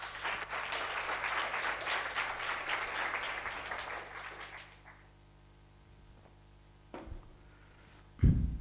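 An audience at a talk applauds a volunteer with steady, fairly close clapping for several seconds, then it cuts off into near quiet broken by a couple of isolated knocks and thumps.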